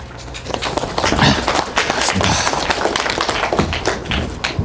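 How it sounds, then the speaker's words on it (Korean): Dense audience applause greets a guest lecturer at an academic talk on Sangju Arirang, a steady wash of many hands clapping, loud and continuous for several seconds with no speech over it. "김연갑 강사님을 큰 박수로 맞아주시기 바랍니다"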